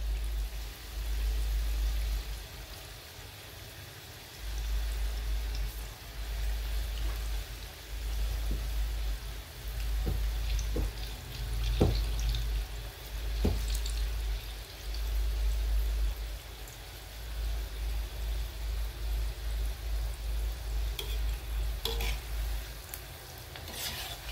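Bhaje fritters of gram-flour batter frying in hot oil over a lowered flame, a steady close crackling sizzle with scattered pops and light stirring clinks running continuously, with no talking.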